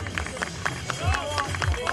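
Brisk, rhythmic clapping from an audience at a couples' competition, fairly close, mixed with crowd chatter and a voice speaking over it.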